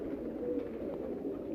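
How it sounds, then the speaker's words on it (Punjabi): A fancier's favourite pigeon gives a low, throaty cooing that runs on evenly, close up and moderately loud, with no talk over it. "ਮੇਰਾ ਫੇਵਰਟ ਕਬੂਤਰ ਹੈ ਇਹ"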